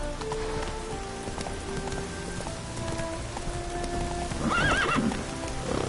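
Roach, a video game horse, gallops with steady clip-clopping hoofbeats under a rain-like hiss, then gives a clear whinny near the end, all fairly close and with no talking.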